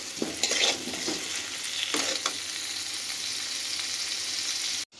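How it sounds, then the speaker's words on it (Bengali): Potatoes with salt and turmeric frying in a pan, heard as a steady sizzle with scraping stir strokes early on, then an even hiss that cuts off abruptly near the end. "অল্প নুন হলুদ দিয়ে ঢাকা দিয়ে আমরা এটাকে আলুটাকেও খুব ভালোভাবে ভাজা করে নেব।"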